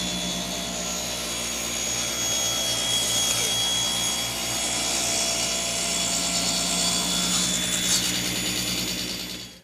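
Table saw ripping a board on a four-sided tapering jig to create a jointed edge, a steady loud blade whine with a rough cutting texture throughout, trailing off as the pass finishes.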